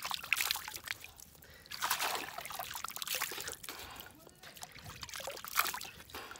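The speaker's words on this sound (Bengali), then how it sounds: "তো দেখেন যমুনার পানি দিয়ে মুখ ধুবো" River water from the Jamuna being scooped and splashed onto the face, repeated trickling and sloshing in irregular bursts, close but fairly quiet against a low outdoor background.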